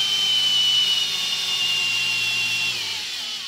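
A cordless drill runs continuously on a dyno with a loud, high motor whine that holds steady, then slows and drops in pitch toward the end.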